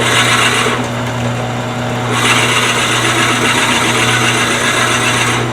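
A loud, steady wood lathe drone with a constant hum and gritty scraping grind running throughout, close by, as a drill bores out wood chips while turning a vase.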